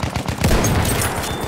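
Machine gun fire in Battlefield 1, a rapid burst of shots under a dense game battle soundscape, loud and close, with a heavier thump midway through.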